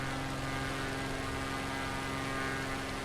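In Microsoft Flight Simulator, a plane faster than a little Cessna cruises over the Caribbean near Barbados. A steady droning engine hum with a low tonal buzz holds at an even level throughout.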